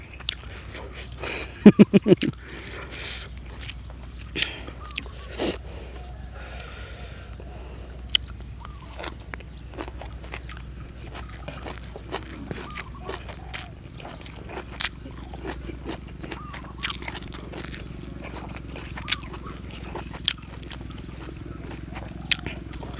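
Crunchy food, bamboo shoot soup with fresh vegetables, chewed close up outdoors beside green rice fields, giving sharp irregular crunching bites over a low steady background hum.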